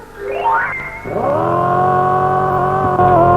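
A cartoon flying car's engine starts with a rising whine, then settles into a loud, steady sustained motor drone for a few seconds, alone with no talk.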